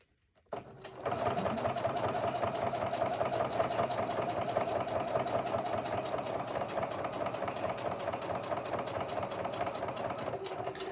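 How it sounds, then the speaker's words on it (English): A sewing machine runs steadily, stitching a straight line on a notepad project, a fast even mechanical whir and rhythmic needle clatter that starts after a brief pause and continues nearly unchanged, close and alone. "So you make sure that you're sewing a straight line going down."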